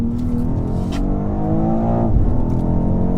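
A BMW X4M Competition's twin-turbo straight-six drones steadily and loudly from close range as it pulls, with the pitch rising under load and a brief shift-like break about two-thirds through.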